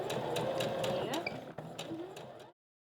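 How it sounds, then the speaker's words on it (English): A sewing machine runs a straight stitch while sewing a bra, a steady rapid mechanical whirr with regular ticking pulses that slows and then stops near the end. "my machine is set to a straight stitch, and as I sew"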